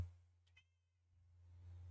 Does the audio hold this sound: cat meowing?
yes